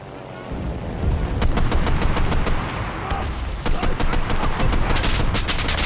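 Called-in artillery strike in a WWII video game played from a German armored personnel carrier, a dense rapid barrage of loud overlapping blasts and gunfire that continues without a break.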